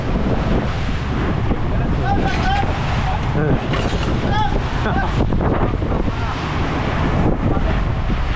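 Strong wind buffets the microphone over rushing water and engine rumble as a boat pushes through ocean waves in bad weather, with faint voices under the noise.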